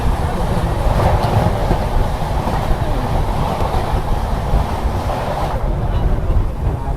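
Nilanchal Superfast Express train approaching in dense fog, a steady broad rushing rumble with wind buffeting the microphone, growing slightly then easing near the end.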